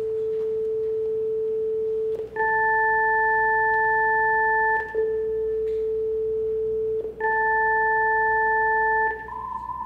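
Steady pure test tones sounding alone, one held tone joined by higher tones that come and go in staggered steps, with brief breaks roughly every two and a half seconds.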